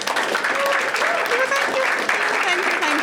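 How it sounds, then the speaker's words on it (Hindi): A live stand-up comedy audience claps for a co-host stepping on stage, dense continuous applause with voices calling out over it for the full few seconds. "एक बारी ताली मार दो वेदिका के लिए।"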